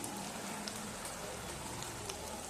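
Turmeric and chili powder frying in oil in a pan for a chicken curry, a steady close sizzle with faint crackles running throughout without a break.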